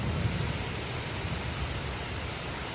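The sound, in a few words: heavy pouring rain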